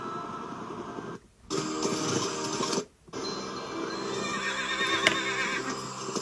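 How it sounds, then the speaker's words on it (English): Horses neigh and whinny repeatedly in a video game scene, giving loud, strained calls broken by two brief silent gaps, over a steady noisy backdrop with some clip-clop. "Okay, those are definitely horses."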